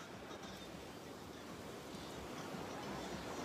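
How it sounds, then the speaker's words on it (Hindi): Evening sea waves at a beach in Goa, heard as a faint, continuous wash of surf, soft and distant with a broad hiss and no clear breaks. "शाम के टाइम ये गोवा की लहरें, ये लहरें, ये वादियां, ये लहरें बुला रही हैं आपको"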